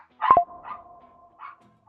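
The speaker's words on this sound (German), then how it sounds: "Falls es einen Lärm gibt, meldet sie dann, Hund macht Lärm." A dog at home barks once sharply, then gives a few softer whining yips, close by and with quiet gaps between them.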